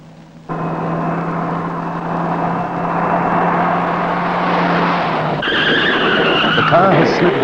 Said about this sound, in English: The car has slid wide on a tight bend, caught a small anthill, and tripped heavily.